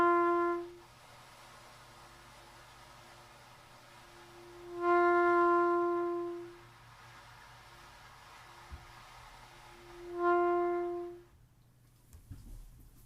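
Soft breathy air is blown through a trumpet until a quiet sustained note speaks. The pattern repeats three times, each note swelling gently out of the air noise and fading, near and faint with pauses between.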